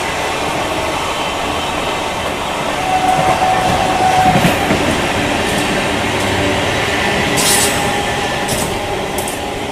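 Howrah Rajdhani passenger train rolling along the rails, a steady rumbling roar with faint clickety-clack of wheels over joints, loud and continuous throughout with brief high squeals near the end.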